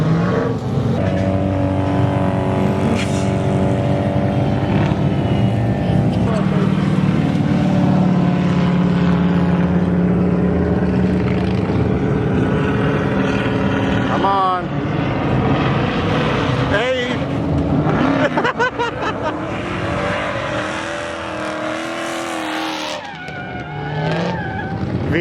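A V8-swapped Mazda RX-7 drifts at a drift day, its engine roaring and revving continuously with tire noise rising and falling, while people talk over the din.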